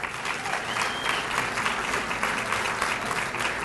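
Steady audience applause fills a hall during an athletic hall of fame ceremony, a dense, even wash of many hands clapping continuously with no talking over it.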